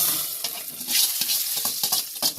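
Spices tempering for a veg kurma sizzle and crackle in a hot pan, with steady frying hiss and scattered stirring scrapes close by, no voices.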